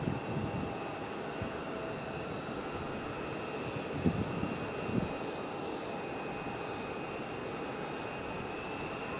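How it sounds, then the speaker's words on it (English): An airliner touches down at Raleigh-Durham International after an earlier go-around, heard as a steady, fairly distant broadband engine roar with a couple of faint thumps midway. "this one finally touching down after a go-around a few moments ago"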